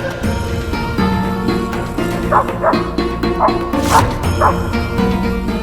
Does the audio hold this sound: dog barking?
yes